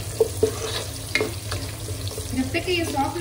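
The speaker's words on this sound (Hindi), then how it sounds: "अनियन को भूनेंगे" Chopped onions frying in a pan until brown for mutton achari, a close, uneven sizzle broken by several clicking spatula stirs and scrapes, with a low hum underneath and no talking.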